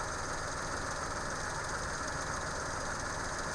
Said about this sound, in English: You notice my fan just kicked on